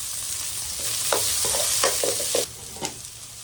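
Onion and chili sizzle in hot oil in a pan, a bright steady frying hiss broken by several sharp stirring scrapes and clacks, close and clear; the sizzle softens near the end, with no talking.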